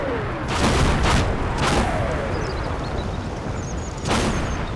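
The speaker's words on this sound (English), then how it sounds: "I didn't expect the artillery to come down that hard on Paris." Artillery fire in Combat Mission Battle for Normandy: several loud booms and rumbling blasts over a continuous battlefield din, a pair of strikes early on and another near the end.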